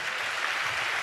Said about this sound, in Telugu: చప్పట్లు కొట్టు స్తోత్రాలు చెప్దాం.